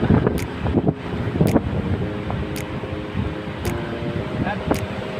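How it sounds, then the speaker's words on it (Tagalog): Strong wind buffets the microphone while a Vietnam-style kite flies, a constant rough rumble with gusty swells, broken by a few sharp periodic ticks and faint mechanical hum in the background. "Lakas na ng hangin"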